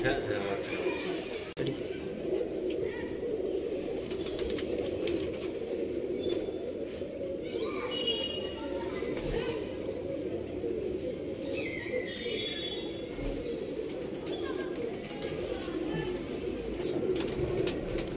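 Pigeons in a loft feeding their chicks, soft cooing and scattered small calls over a steady low background, with occasional flaps and people talking nearby.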